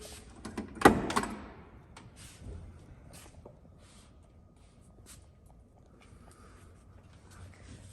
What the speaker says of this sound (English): This door shuts just as nice as the other.